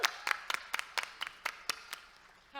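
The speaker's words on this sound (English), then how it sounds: "Big round of applause for Chris and Reese." Scattered clapping from a live-show audience at a comic con stage event in Birmingham, about a dozen sharp individual claps that thin out and fade over a couple of seconds.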